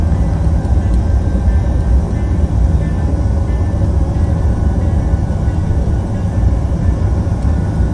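A PMDG 737-900 airliner taxiing in Flight Simulator X, a steady loud engine rumble and whine with a constant low drone and no clear changes over eight seconds.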